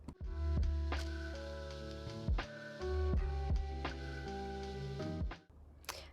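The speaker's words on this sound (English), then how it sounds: "I'm using my regular sewing machine here with a regular straight stitch" A regular home sewing machine runs a straight stitch on a pullover seam, a steady mechanical whir with rhythmic ticking. It stops briefly and starts again, close and fairly quiet.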